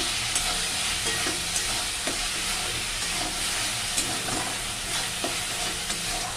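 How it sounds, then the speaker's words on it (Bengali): Spices sizzle steadily as they are stir-fried in oil for a Bengali fish curry, a dense close frying hiss with faint scrapes of stirring throughout and no voices. "এখানে রান্না করছে মাছের ঝাল, মশলা কষাচ্ছি আমি।"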